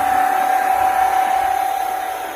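A clogged household jet pump runs with a rough, strained noise, a steady broadband whir carrying a thin constant whine, continuous and fairly loud throughout.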